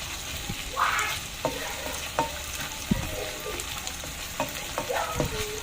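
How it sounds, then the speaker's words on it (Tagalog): Minced pork being stirred with oyster sauce in a pan for an eggplant dish, a utensil scraping and clacking at an uneven pace over a steady, close sizzle. "Ihahalo din natin of course ang ating oyster sauce sa ating minced pork."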